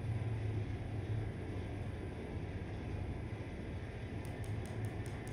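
An electric train in the railway simulator game Train Life runs on the London to Calais route, making a quiet, steady rumble and hum. A few faint clicks come in near the end, and no one speaks.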